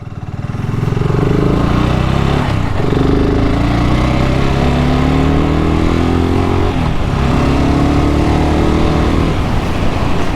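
A BSA Goldstar motorcycle engine roars close and loud while shifting down through the gears, with repeated falling revs and brief dips between gear changes over a steady throbbing exhaust.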